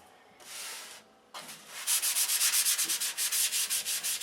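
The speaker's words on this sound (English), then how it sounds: "We're sanding even the poly tissue with 320 lightly." Fine 320-grit sandpaper rubs lightly over doped poly tissue, first in two smooth strokes, then in a quick rhythmic series of short, hissing back-and-forth passes, close and clear.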